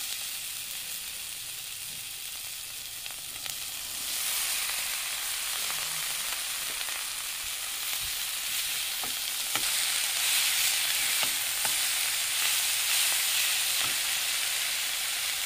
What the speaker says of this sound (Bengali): নাড়াচাড়া করে ভেজে নেব। এবার এর মধ্যে সিদ্ধ করে রাখা কচুরলতিগুলো দিয়ে দেবো।